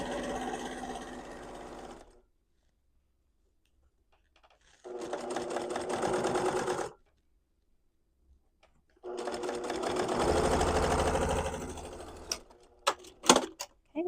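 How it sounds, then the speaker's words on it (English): A sewing machine stitches a quilted tote bag with flex foam at a long stitch length of 5, running in three bursts of rapid, even mechanical whirring separated by pauses, close and clear, ending in a few small clicks. "I'm going to set my machine at a stitch length of 5 so this will go quicker"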